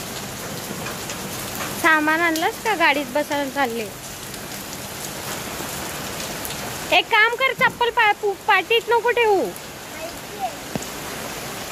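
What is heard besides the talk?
rain falling while getting into a car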